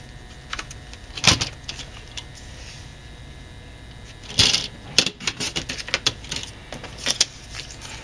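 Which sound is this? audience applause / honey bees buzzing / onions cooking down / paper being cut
paper being cut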